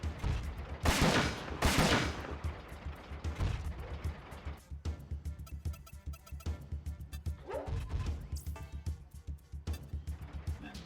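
Gunfire in the mecha strategy video game Front Mission 4: loud bursts of shots and explosive blasts, heaviest near the start, then a steady crackle of rapid fire continuing to the end.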